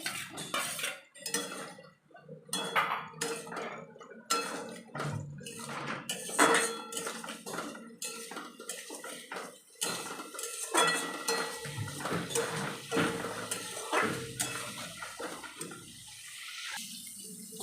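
Fried potatoes are stirred into spice masala in a pan, with repeated clinks and scrapes of a metal spoon against the cookware in irregular bursts, fairly close and with no talking.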